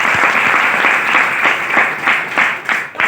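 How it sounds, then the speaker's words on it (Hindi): A seated crowd at a business meeting claps hard in a brief burst, individual hand claps loud and close, with rhythmic accents toward the end. "एक जबरदस्त ताली"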